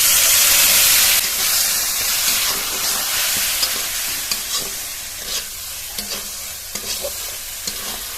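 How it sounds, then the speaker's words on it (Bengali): Masala spice paste of turmeric, red chilli, coriander and cumin powders with a little water fries loudly in a pan, opening with a strong sizzle that settles into steady frying broken by repeated scraping stirs, with no voices. "মশলাটা খানিকক্ষণ কষিয়ে নিয়েছি"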